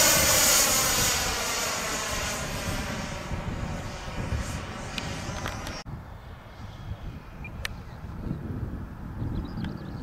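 A HobbyKing Vampire RC model jet passes overhead with a loud, steady ducted-fan whine that holds for several seconds, then drops off sharply as it flies away, leaving a fainter distant hum.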